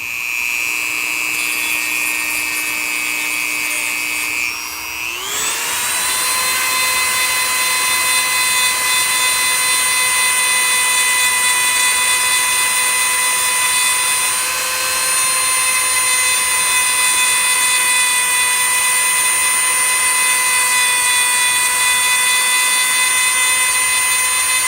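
A power sander works steadily on a custom bobblehead, a sustained high whine with bright overtones that stalls briefly near the five-second mark, then spins back up and runs evenly and loudly to the end, with no talking.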